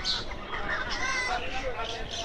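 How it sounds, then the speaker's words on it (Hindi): Desi chickens cluck and squawk in a busy Jeddah animal market, a dense overlapping chorus of bird calls heard up close with a voice talking in the background. "ये सब देसी मुर्गियां हैं जी।"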